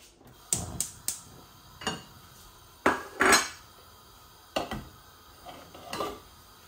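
A metal frying pan clanks and knocks against a stove several times in irregular sharp bursts, close and moderately loud, with no talking.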